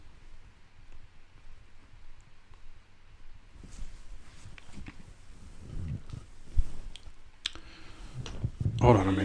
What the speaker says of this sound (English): this mouse is fucking about. It's just clicking anything.